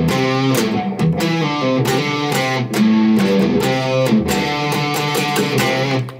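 Electric guitar with heavy distortion plays a simplified version of a riff, loud and up front, with choppy repeated picked notes in a steady groove and no talking over it.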